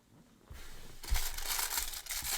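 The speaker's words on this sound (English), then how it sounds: "Waxy plastic bags." Waxy plastic accessory bags from a Marvel Legends Spider-Man and Spinneret action figure two-pack crinkle and rustle up close, starting faint and growing into a continuous crackling crumple, with no talking.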